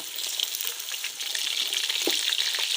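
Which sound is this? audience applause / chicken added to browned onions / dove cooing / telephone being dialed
chicken added to browned onions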